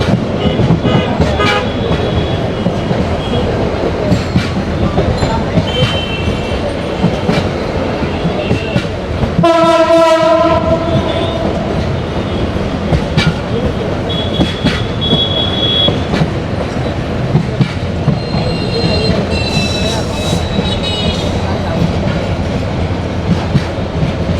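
Chattala Express passenger train rolling into Kamalapur railway station, with continuous loud rumble and wheel clatter, a long horn blast in the middle, and brief squeals of wheels on the rails.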